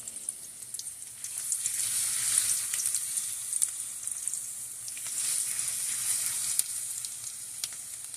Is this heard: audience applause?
no